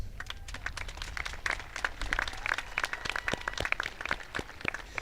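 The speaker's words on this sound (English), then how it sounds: "Please join me in a round of applause recognizing our Northeast CTE students' commitment to excellence" Audience members at a Northeast High School graduation ceremony clap for career and technical education students, a thin, scattered patter of individual hands that continues evenly for several seconds without voices.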